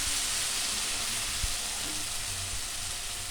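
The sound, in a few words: spice paste added to frying garlic, sizzling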